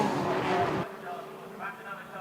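Formula Ford race cars at Brands Hatch roar loudly past, then the engine note drops away and a more distant car whines on, with a commentator talking over the racing noise.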